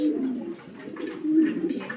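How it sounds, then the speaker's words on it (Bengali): Pigeon, a Shouking crossed with a Giant Homer, cooing softly in a low, throaty murmur that rises and falls over two seconds, fairly close with no talk. "এই কবুতরটা হচ্ছে শৌকিংয়ের সাথে জায়েন্ট হুমার ক্রোস"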